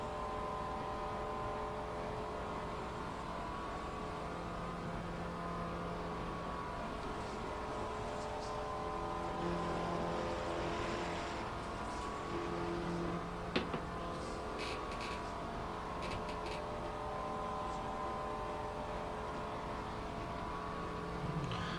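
A Maserati GT4 race car engine at Spa in Assetto Corsa Competizione drones steadily for over twenty seconds, its pitch rising and falling through gear changes and corners, with no talk.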